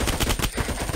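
Rapid bursts of automatic gunfire from an ARMA 3 military firefight, loud and close, rattling almost continuously with only a brief dip near the middle.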